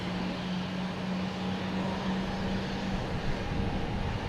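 A KLM airliner from Amsterdam comes in to land at Boston Logan Airport, a soft distant engine drone with a faint steady hum, low and continuous throughout.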